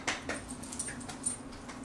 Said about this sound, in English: I'm gonna try and get my dog Marley to trigger it